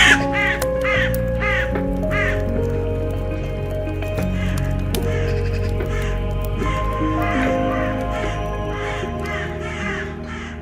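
A raven or crow gives a run of harsh, rhythmic caws, repeated steadily over a sustained musical background, moderately loud and without speech.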